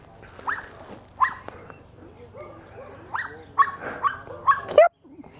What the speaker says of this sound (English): That's Bash's bark.